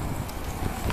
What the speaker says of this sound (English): I know it's an awful windy day.